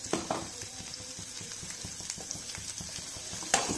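Small onions sautéing in castor oil for a mutton kolambu, a soft continuous sizzle with scattered spatula clicks and scrapes, one sharper knock near the end.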